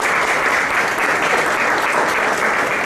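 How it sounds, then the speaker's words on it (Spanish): Strong, steady applause from an audience at a book presentation for the author, professor Erasmo Marín Villegas, loud dense clapping with no pauses. "Brindemos un fuerte aplauso a nuestro autor"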